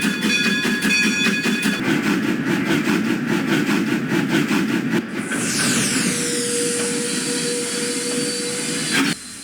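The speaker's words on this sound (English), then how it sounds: "After Vincent left, Sapphire arrived with a passenger train" A loud, steady rumbling train with rhythmic clatter, then a rising hiss of brakes and a sustained high squeal as it slows, ending with a sudden release.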